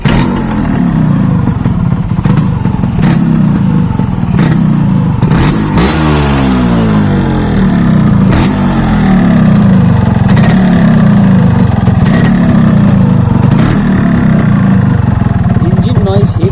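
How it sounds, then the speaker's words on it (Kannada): A Yamaha RXZ two-stroke motorcycle engine runs close by, revving and falling back toward idle with a loud, rasping, uneven exhaust note, while someone talks over it. "ಇಂಜಿನ್ ನಾಯ್ಸ್ನ ಮಾತ್ರ ಕೇಳಿಸ್ಕೊಂಡು"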